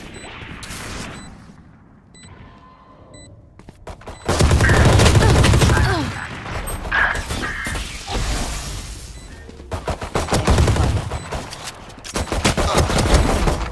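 Gunfire in the Valorant shooter game: scattered shots early, then loud sustained automatic volleys and bursts with impact crashes, close and dense, with game sounds between.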